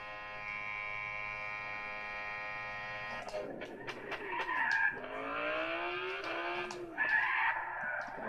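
A steady engine drone from a car in Gran Turismo 6 gives way to squealing tire skids as it brakes hard, with repeated tire screeches and shifting engine revs through the second half.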